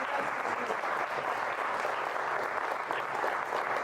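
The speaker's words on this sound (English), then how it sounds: "I'd like to give everyone in the room a big round of applause." Room full of conference attendees at an IMEX event breaks into a big round of applause, steady dense clapping at moderate distance, with faint crowd murmur beneath.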